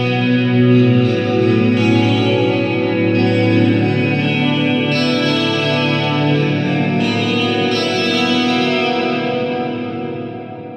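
Sustained, dense musical sound drenched in long reverb with the low end rolled off, a continuous swelling wash of tones that slowly fades near the end, with no voices.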